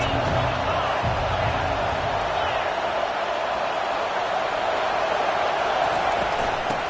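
Stadium crowd at a college football game, Oregon at Alabama, a dense steady roar filling the whole stretch with no breaks, loud and continuous as the home fans bring energy.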